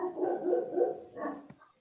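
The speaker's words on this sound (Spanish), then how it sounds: "Un perro El perro también agradece." A dog barks a few muffled times at the close of an evening talk, fairly faint and somewhat distant, alone without speech.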